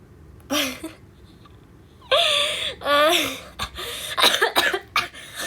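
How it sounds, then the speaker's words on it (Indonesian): A few harsh coughing bursts close up, with strained vocal sounds between them, followed by a rapid run of shorter coughs. "aduh batuk"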